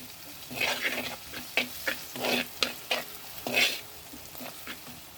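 Onions frying in a pan with turmeric and salt, stirred in quick scraping strokes over a soft, steady sizzle; the strokes come in irregular bursts, close and clear, with no talking.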